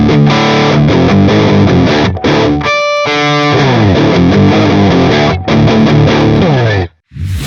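Electric guitar driven through a Rat distortion pedal and a Stone Deaf PDF-1 parametric distortion filter, playing loud, dense chords and riffs with a brief pause near the middle and a sudden cutoff before the end.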